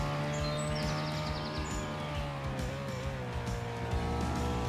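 A car driving in the video game Emergency Hamburg: a steady, moderately loud engine drone with shifting pitch and faint tyre noise, with no one speaking.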